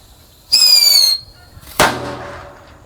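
A Disco Pretek firecracker lit on a floating toy boat lets out a short whistle that falls slightly in pitch, then a sharp, loud bang a moment later that trails off in a brief rumble.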